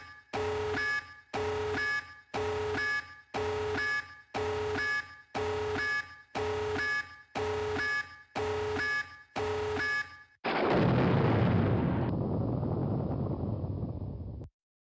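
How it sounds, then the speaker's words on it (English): A video game's tactical nuke warning sounds as ten evenly spaced, blaring alarm tones, then gives way to a loud, roaring explosion rumble that holds for several seconds before it cuts off abruptly. "Tactical nuke incoming!"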